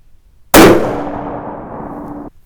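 A single sharp rifle shot from a .243 Winchester hunting load fired at a target, loud and close, with a brief echoing decay of about two seconds before quiet returns.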